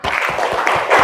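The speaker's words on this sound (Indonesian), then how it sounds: "Tepuk tangan untuk kita semua." A class of children clapping together in a classroom, a dense, loud burst of rhythmic hand claps with a pulsing beat, close and unbroken for about a second.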